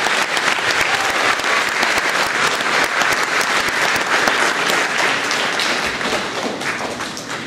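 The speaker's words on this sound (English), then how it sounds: "Let's give them all another round of applause for all of their" Sustained applause from an audience at an elementary school's official grand opening ceremony, dense steady clapping throughout, loud and close, easing slightly toward the end.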